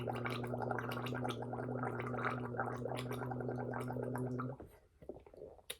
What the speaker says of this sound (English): the last one I like to do is to gargle with warm salt water.